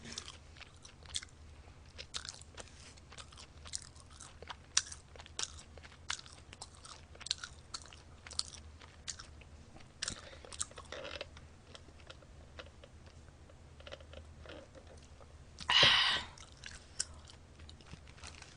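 Close, quiet mukbang eating of a McDonald's 1955 burger: soft bites and wet chewing in an irregular rhythm with small crunches, and one louder burst of rustling near the end, without talk.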